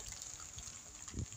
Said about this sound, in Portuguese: Tô adicionando aqui a água do cozimento